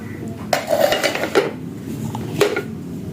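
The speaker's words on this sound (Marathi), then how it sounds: "आता जेवण झाल्यानंतर मग परत आली भांडे घासायचं" Dishes, pots and cutlery clatter while being washed after dinner in a home kitchen, with several sharp metallic knocks and clinks among steady rinsing sounds, up close and without talk.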